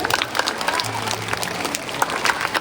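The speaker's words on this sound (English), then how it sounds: "So once again, please give them huge round of applause." Continuous crowd applause at a school assembly, steady rapid clapping from many hands throughout.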